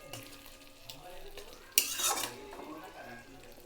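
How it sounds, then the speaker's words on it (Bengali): Food being stirred in a pan after ghee is added, soft scraping and utensil clinks with a brief burst of sizzling partway through. "আবার ঢেকে নামানোর আগে একটু ঘি দিয়ে দিলাম, আবার একটু নাড়িয়ে দিলাম।"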